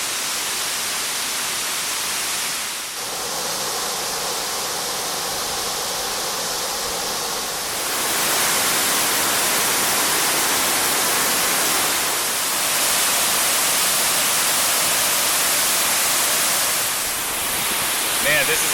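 Waterfall at High Bridge Falls, New Jersey: a loud, steady broadband roar of rushing water, close by, that swells louder partway through and continues without break.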